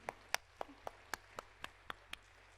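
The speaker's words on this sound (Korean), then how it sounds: "박수 박수 박수 박수." Congregation clapping during a church sermon, about nine sharp, evenly spaced claps in a steady beat, faint and close, over a low hum, with no voices.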